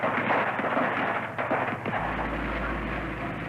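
A rapid barrage of gunfire from the 1970 Kent State shooting, heard as a dense, crackling spread of shots layered over a noisy, rumbling background with no voices.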